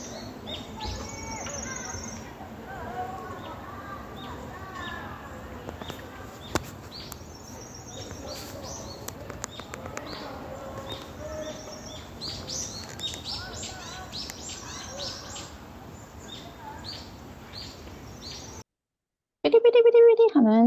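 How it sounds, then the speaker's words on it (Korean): Song of a Sakhalin leaf warbler played back as a recording in a park, thin high trilling phrases repeating among other chirping birds, fairly faint, ending with a brief loud burst at the close. "삐리삐리삐리삐리 하는 대솔새 울음소리고요."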